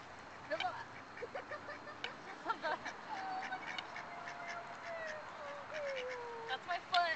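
Ducks quack in repeated bursts close by as they are fed, their calls mixing with voices of people talking nearby.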